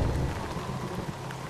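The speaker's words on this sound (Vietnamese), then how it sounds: "Lại gặp đúng hôm bão rừng mù mịt" A heavy rainstorm lashes a mountain forest in an animated folk tale, a dense, constant roar of rain with a deep rumble underneath and no talking.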